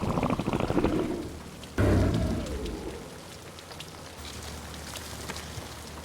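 Heavy rain falls steadily across the whole stretch, with a broad, dense hiss that swells sharply partway through and then settles into a softer, even downpour.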